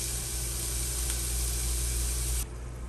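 Diced jalapeños sizzling in olive oil in a pan over medium heat, a steady dense hiss close by that drops off abruptly near the end.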